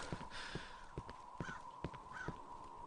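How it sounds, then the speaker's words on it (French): A crow caws repeatedly in the Half-Life mod Cry of Fear, with faint harsh calls over a low ambient drone and several sharp rhythmic knocks spaced evenly throughout. "D'accord, un corbeau."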